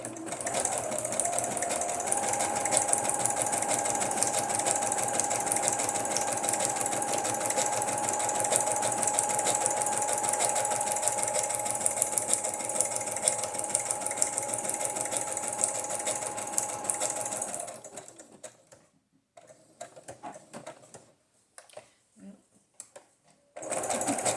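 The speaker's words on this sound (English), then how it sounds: "The machine can go faster than I'm sewing, but I don't like to go as fast as I can all the time." A sewing machine stitching through paper for junk journals, a steady fast motor hum and needle whir running continuously, then stopping and giving way to quieter intermittent handling sounds.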